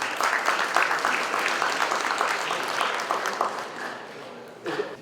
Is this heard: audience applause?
yes